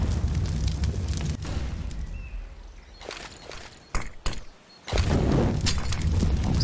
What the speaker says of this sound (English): Great Molotov from the CTs though